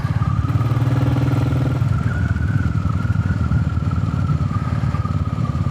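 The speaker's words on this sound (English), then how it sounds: "and the sound of the bike" A 20 HP motorcycle engine runs steadily throughout, a loud, close rumble with a constant droning pitch as the bike cruises along.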